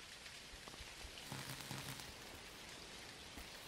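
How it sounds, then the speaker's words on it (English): Rain falls steadily in the farming game Dinkum, a faint, even hiss of drops pattering on surfaces with no talking over it. "It's raining, man."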